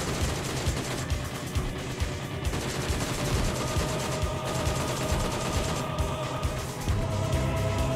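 Dense gunfire fills a battle royale game shootout around shipping containers, with rapid bursts and overlapping shots running continuously at loud volume and no pause.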